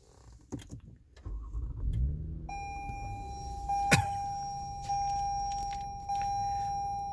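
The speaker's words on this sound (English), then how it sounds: "So you're going to start up the car." A 2019 Toyota Camry starting up: a button-press chime, the engine catching and settling into a steady idle, then a sustained warning tone and short beeps over the running motor.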